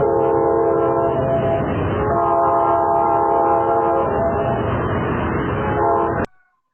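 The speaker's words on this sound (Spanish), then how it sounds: "y el sonido de un tren." A city train sounds its horn in long sustained blasts over a heavy rolling rumble, loud and close. The horn briefly dips and returns before everything cuts off abruptly near the end.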